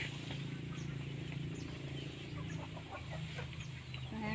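Several chickens cluck and murmur together close by, a continuous busy farmyard chatter with no talking.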